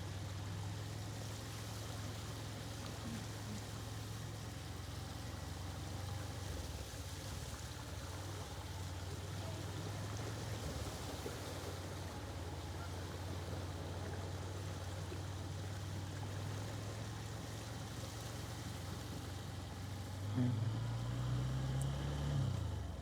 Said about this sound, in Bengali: খুবই দ্রুত নামছে জল।